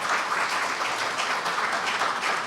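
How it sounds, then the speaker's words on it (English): Audience applauding for Sue Harvey at a gathering, a short burst of dense clapping from a crowd, steady and moderately loud throughout. "Yeah, you should put your hands together for Sue Harvey."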